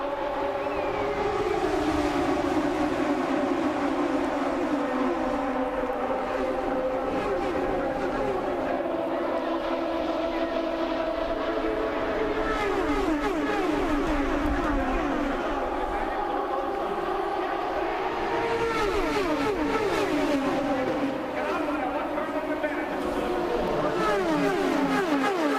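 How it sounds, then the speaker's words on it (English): IndyCar race cars at Kansas accelerate up to speed behind the departing pace car, a loud continuous roar of engines with rising and sweeping pitch as the pack passes, sustained the whole time. "So the pace car has pulled towards pit lane. Cars come up to speed"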